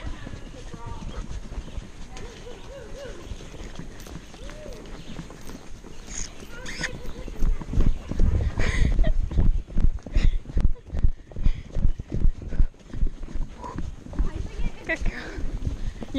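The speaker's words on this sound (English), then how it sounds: "He's such a nice canter." A horse canters outdoors over rocky ground, its hooves striking in a fast, rhythmic clip-clop that grows louder and closer halfway through, with breathing and faint background noise around it.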